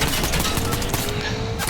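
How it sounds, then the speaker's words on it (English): Fortnite Zero Build gunfire rattles in a dense, rapid burst of overlapping shots that fills the whole moment, loud and continuous with no voices. "And now you're being shot from Bastion as well."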